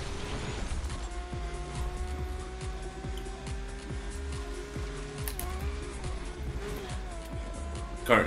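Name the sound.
racing car engine in video game Need for Speed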